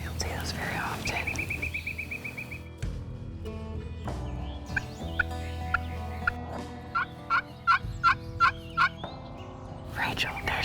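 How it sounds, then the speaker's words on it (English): Wild turkeys gobbling near a lake, a run of rapid, rattling gobbles from a distance, then several short clucking calls, with hushed whispered talk close by. "there's some turkeys across the lake back there beyond that brown grass"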